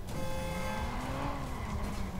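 Reinforcement cars in the Watch Dogs video game skid with a sustained tire squeal over engine roar, continuous and fairly loud for about two seconds.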